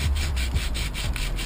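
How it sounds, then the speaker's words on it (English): Fine grit sandpaper rubbed by hand over an Onnit kettlebell handle, close and loud, in quick regular back-and-forth strokes about five to a second. "just go ahead and sand the handle down"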